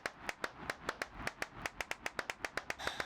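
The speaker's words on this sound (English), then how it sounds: "We got a lot of clapping to do." Hand claps in a horror video game ring out in a quick, steady series of about twenty sharp, close, evenly spaced slaps, heard alone with no talking.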